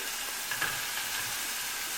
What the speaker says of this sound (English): Get that sizzle, that's a good patty right there.